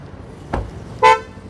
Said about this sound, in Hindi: lock the car it's fold and unlock the car it's the open